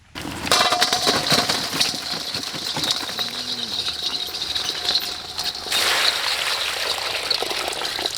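Running water splashes and trickles steadily as field crabs are washed before cooking outdoors in a bamboo forest kitchen, a continuous close gushing wash that swells louder toward the end.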